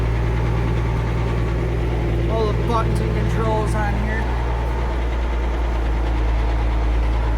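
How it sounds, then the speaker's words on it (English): Ford 9700 cab tractor engine running steadily from inside the cab, a constant low rumble and vibration with someone talking over it partway through. "Nice little cab tractor."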